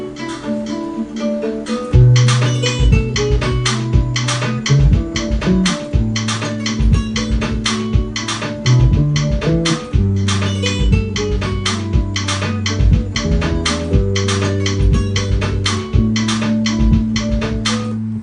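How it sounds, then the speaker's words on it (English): A bass line played on a guitar: steady, sustained low notes moving in a repeating pattern under a loud, driving percussive beat, with no voices. "Okay, I come up with a bass line on the guitar. I'm going to play it in now"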